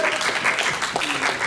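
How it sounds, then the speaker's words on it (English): Audience applause for convention organizer Charlie at a pony fan convention, a short burst of dense clapping from a crowd with voices mixed in. "Can we get a round of applause, by the way, for Charlie?"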